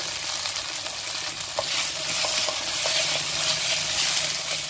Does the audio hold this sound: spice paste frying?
yes